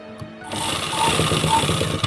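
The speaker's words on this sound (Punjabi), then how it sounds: "ਇਹਦੇ ਉੱਪਰ ਵੀ ਤੁਸੀਂ ਐਦਾਂ ਕਰਕੇ ਤਿੰਨ ਲਾਈਨਾਂ ਨੂੰ ਡਰਾ ਕਰ ਲੈਣਾ ਮਸ਼ੀਨ ਦੇ ਨਾਲ" A sewing machine stitches decorative lines on a salwar cuff, running fast and steady with a rapid mechanical chatter after a brief quiet start.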